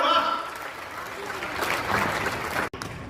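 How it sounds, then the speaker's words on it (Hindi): Audience applause fills a Hindi comedy poetry gathering, a dense, steady wash of clapping from a crowd that runs for about three seconds and stops briefly just before the end. "क्या बात है भाई, तालियां हो जाएगा।"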